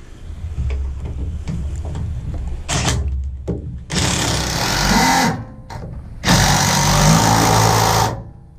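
A power tool drives bolts into an F-150 tailgate, with short whirring bursts that become longer, louder runs of buzzing motor noise separated by brief pauses, heard up close.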